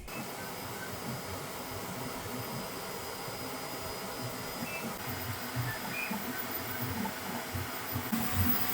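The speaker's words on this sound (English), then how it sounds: "I think I'll send it to the printer" A 3D printer printing a cloned part, steady whirring fan and motor noise with faint stepper whines, continuous and moderately quiet throughout, no voices.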